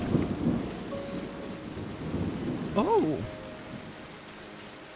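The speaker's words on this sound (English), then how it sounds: "We've gotten thunder and rain." Thunder and rain in the Terra Nil game, a continuous rainy wash with low thunder rumble, a short exclaimed voice briefly rising over it midway, then the storm continuing at moderate level.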